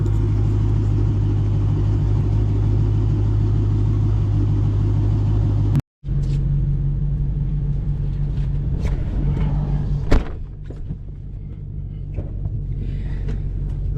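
A Dodge Challenger SRT8 engine rumbles steadily as the car gets rolling, a deep continuous drone that briefly cuts out, then carries on at a slightly lower level with faint interior clicks.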